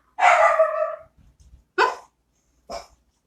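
A dog barks three times, one longer bark followed by two short sharp ones with pauses between, fairly close and clear.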